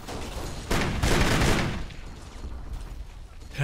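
Sustained, noisy gunfire in the video game Kane & Lynch: Dead Men, a dense wash of overlapping shots that swells in the middle and then eases off without distinct single reports.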